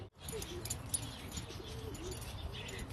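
Racing pigeons returning to their loft after a 500-mile race coo softly and repeatedly at close range, with faint rustling and occasional chirps over a low background hum.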